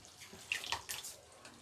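Hot water is poured into a pot of sambar dal, a faint, short splash and trickle of under two seconds with a brief bright slosh near the middle.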